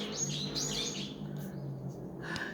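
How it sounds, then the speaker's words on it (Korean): Birds chirp and tweet outside a balcony, a few short bright calls at moderate distance over a quiet background. "새소리 들리시죠?"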